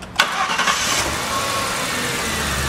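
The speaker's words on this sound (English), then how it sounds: "I'll get Eric to start the car" A car engine starts up in a repair shop during a battery replacement, with a sharp crank that catches quickly and settles into a loud, steady idle close by.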